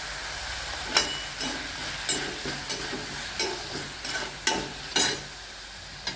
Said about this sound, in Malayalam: പിന്നെ കുറച്ച് കറി ലീവ്സ് ഇടാം, ഒരു 2-3 തണ്ട് കറി ലീവ്സ്.